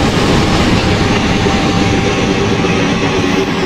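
A passenger train rolls past in an Indian railway setting near Patna Sahib station in the Open Rails/MSTS train simulator, a loud steady rumble with rail clatter and no talking.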